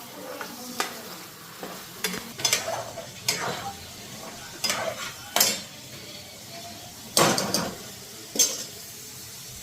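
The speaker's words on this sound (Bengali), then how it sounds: "এদিকে মশলাটা হালকা ফ্রাই দিতে থাক" Spices frying lightly in a pan, a soft continuous sizzle broken by sharp spoon scrapes and clinks against the pan at irregular intervals, close up, with a faint voice now and then.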